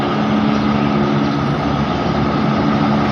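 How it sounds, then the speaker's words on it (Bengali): A helicopter lifting off close by beside a seven-storey mosque under construction, its engine and rotor giving a loud, steady broadband roar with a low hum that fills the whole stretch without letting up. "এই যে হেলিকপ্টার উঠতেছে"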